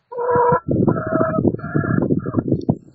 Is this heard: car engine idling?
no